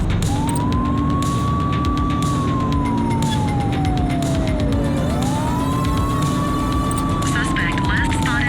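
A police car siren wails during a pursuit in the police game The Precinct, a loud rising and falling tone over engine rumble, with a voice speaking over it.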